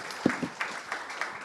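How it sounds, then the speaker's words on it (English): Audience applause at the RIA CyberMeetUp after a talk, a thin, sparse patter of clapping from a small crowd, fairly faint and brief. "Another round of applause,"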